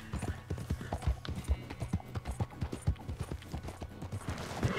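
Horse galloping in Red Dead Redemption 2, rapid rhythmic hoofbeats thudding close and loud in a steady clip-clop pattern across the whole stretch, with no talk over it.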